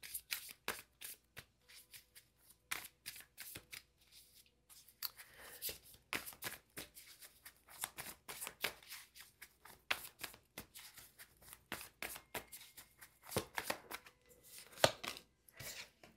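Tarot cards being shuffled in a quiet room, a long run of quick crisp riffles and flicks with short pauses between bursts, close and fairly soft, with no talk.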